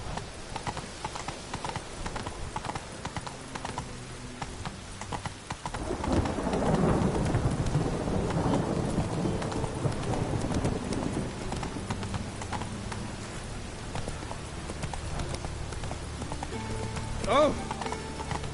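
Roach the horse in The Witcher 3 clip-clopping through a rainstorm, steady hoofbeats under heavy rain and rumbling thunder that swells midway, with game music and a voice at times.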